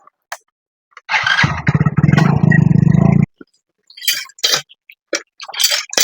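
A motorcycle engine catches and revs steadily for about two seconds, then cuts off abruptly, followed by scattered brief clatter and handling noises.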